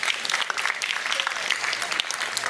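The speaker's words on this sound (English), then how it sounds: "Okay, so everyone give a big round of applause for that." A group at band camp claps together in quick, lively applause, a short dense burst of hand claps with some crowd noise mixed in, running for a couple of seconds.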